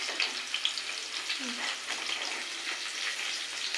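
Curry leaves and thinly sliced onions fry in hot oil for a Telugu okra curry, giving a steady soft sizzle close by with faint clinks.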